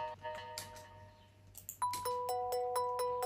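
Marimba in an electronic music production, treated with delay and reverb, ringing out in repeated bright mallet notes that echo and trail off, fairly faint and with no voice over it.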